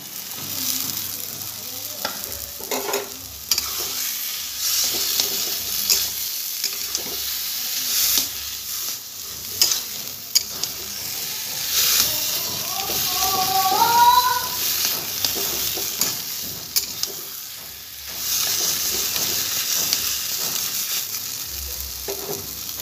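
Shrimp frying with chopped taro leaves in a pan, a steady close sizzle with scraping stirs throughout, a short louder burst of bubbling partway through, and no voices.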